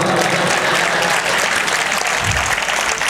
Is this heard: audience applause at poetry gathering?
yes